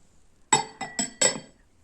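A glass lid on a glass jewelry box clinks against its base four times in quick succession, bright and close, in an otherwise quiet room.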